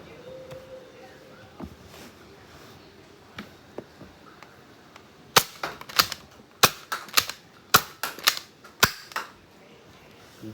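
A Nerf Elite 2.0 Prospect QS-4 blaster fires darts in quick succession, a run of about ten sharp plastic snaps and clacks from priming and firing, close and loud after a quieter stretch of soft handling clicks.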